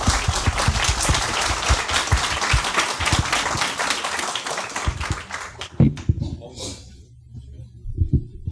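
Audience at a comics conference clapping, a dense burst of applause that thins into scattered claps and then fades to near silence.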